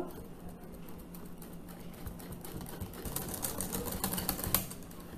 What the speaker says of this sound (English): Use a whisk to mix it all together.